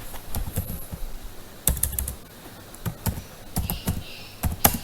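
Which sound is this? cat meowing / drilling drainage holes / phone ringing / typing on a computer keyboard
typing on a computer keyboard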